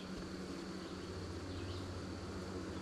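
Honeybee swarm humming steadily nearby, a continuous low drone of many wings that stays even throughout.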